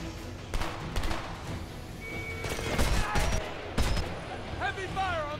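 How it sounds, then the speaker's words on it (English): Heavy gunfire in the shooter game Homefront, with bursts and thumping shots scattered through the clip, loud and close, mixed with other game sounds. "Heavy fire on my position."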